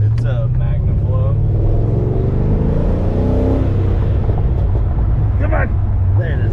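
An Infiniti G35 with an LS V8 swap and MagnaFlow exhaust revs loud and close, a deep rising engine roar that swells mid-clip, with voices talking over it.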